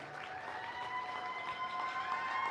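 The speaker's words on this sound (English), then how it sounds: "let's give this show committee a big round of applause" A crowd applauds the show committee in a livestock arena at a county fair, faint, distant clapping that carries on steadily with tonal background hum.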